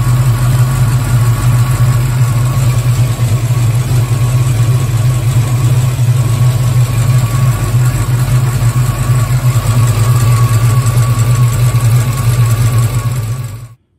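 A Ford Mustang Foxbody V8 with a hard-crank, surging-idle fault runs at a steady, loud idle, a continuous low rumble held close by and unbroken, with no voices, until it cuts off abruptly at the end.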